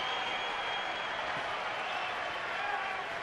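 A noisy Saturday crowd at a baseball stadium in Arizona cheers and applauds steadily, a broad distant roar with no break.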